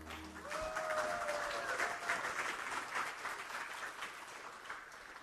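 Steady applause from a crowd, a dense patter of clapping that holds evenly throughout with no talking over it.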